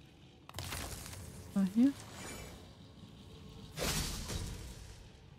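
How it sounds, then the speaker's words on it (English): Objects shatter in the God of War video game with sharp, crashing bursts of breakage, one early and one louder later, heard over someone talking. "I will never get tired of shattering things with this."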